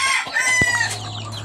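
A white rooster crows close by while hens cluck around it, the calls rising and overlapping in a busy farmyard chorus.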